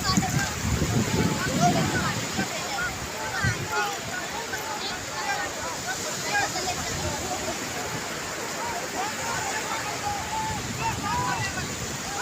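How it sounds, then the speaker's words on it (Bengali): Sea waves wash onto the beach at Digha in a continuous, rushing surf with some wind buffeting the microphone. A louder surge comes at the start, with voices faintly present underneath. "এই যে ঢেউ,"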